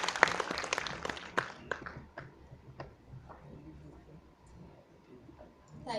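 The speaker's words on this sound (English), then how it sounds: "Ladies and gentlemen, a big round of applause for Madam Aarti Ahuja," Audience at a 2021 Tuberculosis Day event welcomes Madam Aarti Ahuja with brief applause: a burst of claps at the start that thins quickly into sparse scattered claps amid room noise and faint voices.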